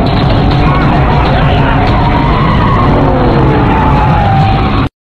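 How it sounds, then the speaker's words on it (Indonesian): A car speeds off with loud skidding and tyre noise over a roaring engine, a dense continuous rush lasting a few seconds before cutting off abruptly. "Jang segera memacu mobilnya."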